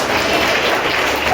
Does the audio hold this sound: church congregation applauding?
yes